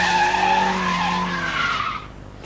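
A 1991 BMW 318i, a rear-wheel drive car, slides with its tyres skidding in a loud, sustained screech whose pitch drifts slowly downward, then cuts off sharply after about two seconds.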